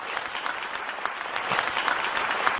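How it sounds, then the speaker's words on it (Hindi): A crowd at a public gathering in India applauding, dense clapping that holds steady and swells slightly toward the end, heard at moderate distance. "जैसे एक बार जोरदार ताली बजा दो।"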